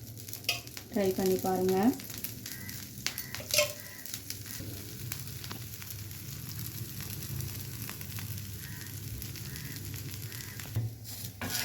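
A dosa sizzles on a hot pan in a home kitchen, a soft continuous crackle with scraping and stirring sounds, while someone speaks briefly near the start.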